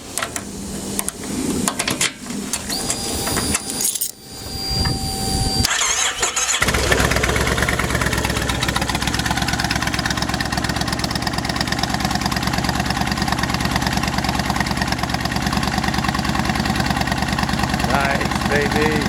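A 2005 Kawasaki Vulcan 1600 Classic motorcycle with Cobra exhaust pipes starts after a few seconds of clatter and handling, then idles with a loud, steady, deep rumble close by for the rest of the clip.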